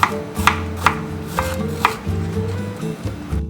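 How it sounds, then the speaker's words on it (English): Potatoes being chopped into chip-sized pieces for chili: a handful of crisp, evenly spaced knife strikes, close and clear, with a soft tonal background underneath. "I'm also chopping up some potatoes in chip sizes to have with my chili"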